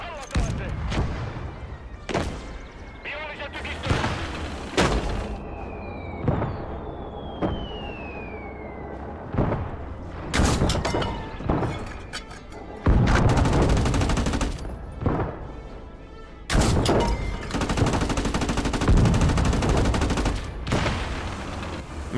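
Video game gunfire in a squad battle, heavy bursts of rapid automatic shots and booms repeating across the whole stretch, loud and close, with players talking over it.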